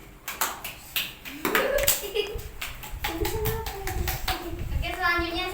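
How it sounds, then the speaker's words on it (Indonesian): Children in a primary classroom clap in short, uneven bursts of taps while young voices chatter and call out over them, the claps close and fairly loud. "Tepuk tangan."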